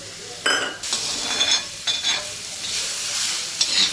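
Onion and a large tomato fry in a pan for a prawn masala, a bright sizzle broken by repeated scraping and clinking of a spoon stirring against the metal, close and fairly loud.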